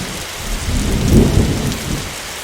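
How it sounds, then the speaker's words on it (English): A storm in The Darkside Detective video game brings steady rain with a deep, swelling thunder rumble that peaks midway and then fades, with no voices. "That's a conspicuous storm."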